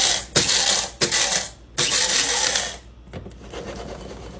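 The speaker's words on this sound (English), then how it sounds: "30 grams of beans in there. All right, 30 grams. I'm trying to go for a coarse grind." A coffee grinder coarsely grinding 30 grams of coffee beans, a loud close whirring burr buzz in several bursts separated by brief pauses, fading to a lower rattle at the end.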